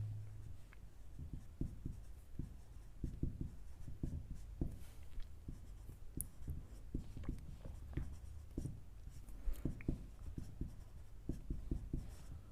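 Pen scratching on paper while a class 10 ratio and proportion maths solution is written out, soft close strokes in quick irregular bursts, faint and steady with no talk.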